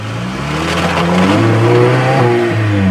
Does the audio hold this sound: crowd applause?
no